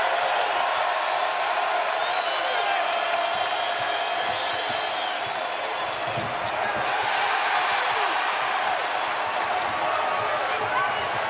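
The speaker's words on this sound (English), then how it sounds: "And listen to this crowd." A packed arena crowd roars and cheers at a Texas A&M versus Texas Tech college basketball game, a loud continuous swell with sneaker squeaks and court noise beneath it and a commentator talking over the din.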